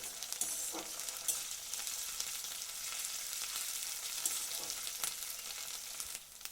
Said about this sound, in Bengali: আদা রসুনের পেস্টটা দিয়েও একটু ওর সাথে নাড়াচাড়া করে নেব।